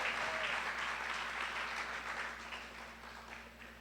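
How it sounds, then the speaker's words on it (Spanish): A church congregation applauds together in a steady, dense wash of clapping that carries evenly through the whole stretch and eases slightly toward the end, with no voices over it. "Un fuerte aplauso a la palabra de Dios."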